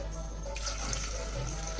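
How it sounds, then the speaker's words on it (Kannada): Water is poured from a cup onto chana dal in a kitchen vessel for a sweet holige filling, making a soft, steady splashing stream that runs evenly throughout at a modest level. "ಇದಕ್ಕೆ ಇವಾಗ 4 ಕಪ್ಪು ಇದೇ ಲೋಟದಲ್ಲಿ ನೀರು ಹಾಕೋತಾ ಇದ್ದೀನಿ"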